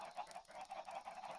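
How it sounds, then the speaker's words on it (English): Chickens in the video game Minecraft keep up a fast, repeated clucking and honking chatter, faint and steady with no talking over it. "God, the clucking is insane."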